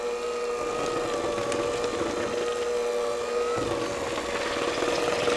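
An electric mixer runs on low through cheesecake batter with vanilla added, a constant close whirring hum with a faint grinding edge that carries on steadily for several seconds, with no speech.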